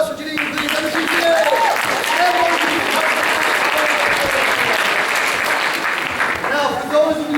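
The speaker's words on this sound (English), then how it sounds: "Another round of applause for Janine." Audience at a children's theater production of Cinderella applauds loudly and continuously, a dense close wash of clapping with some voices calling out beneath it throughout.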